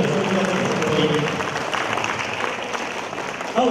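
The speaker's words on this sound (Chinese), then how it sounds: "我们给他们再次掌声一下吧" Audience applause for a local student band at the opening of a stone appreciation society's exhibition, steady clapping throughout, fairly close, with a brief louder burst near the end.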